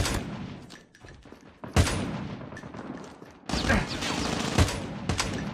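Gunfire in the Call of Duty Mobile video game, including sniper rifle shots: loud sharp bursts and rapid volleys come in waves with brief lulls between them.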